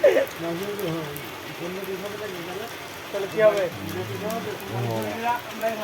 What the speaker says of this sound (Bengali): দেখো বৃষ্টি পড়তে লেগেছে